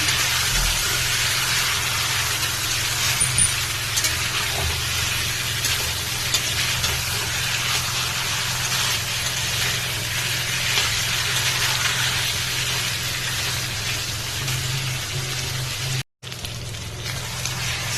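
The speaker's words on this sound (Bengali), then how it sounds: "এই মাটনটাকে ভালো করে কষিয়ে নেব" Mutton frying in a pan, a dense, continuous sizzle with a low steady hum beneath and soft stirring, close and fairly loud, with a brief dropout near the end.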